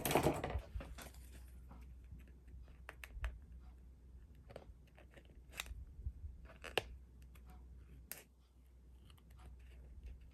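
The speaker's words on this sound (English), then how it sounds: "Now all I got to do is cut this edge off." Scissors trimming the edge off a paper postcard, a series of faint, sharp snips and clicks spaced irregularly in a quiet room.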